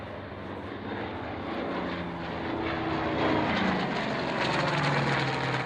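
Sky Raiders display team aircraft pass overhead in a steady, moderately distant engine drone that swells slightly as they go by, with no voices.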